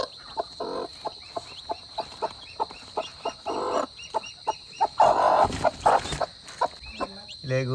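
Chickens cluck and call repeatedly in short, rhythmic bursts, fairly close, over a steady background hum with some louder squawks.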